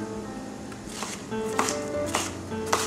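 A knife chops a white onion on a cutting board, with several crisp, distinct strokes at an uneven pace, close and clear, no talking.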